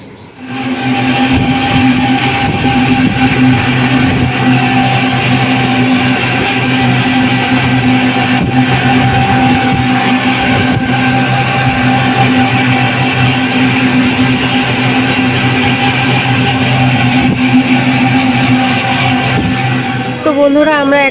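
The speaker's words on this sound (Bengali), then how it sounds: "ওই দেখো বন্ধুরা ট্রেন যাচ্ছে" A train passes steadily beside the railway line near Krishnanagar station in West Bengal, a loud, continuous rumble with tonal hum lasting about twenty seconds before easing off.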